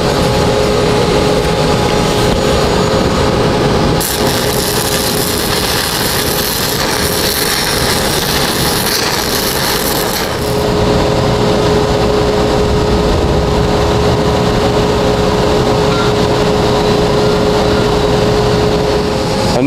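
A 6010 stick welding tack on a 2G open root plate gives a loud, steady crackling and buzzing arc, with a brighter, harsher stretch in the middle before settling to a steady hiss.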